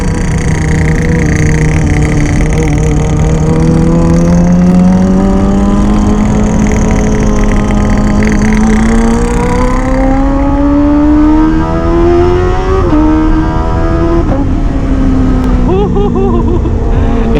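A loud, close Kawasaki ZX25R sport motorcycle exhaust revs hard, its whining pitch climbing steadily and dipping briefly before rising again.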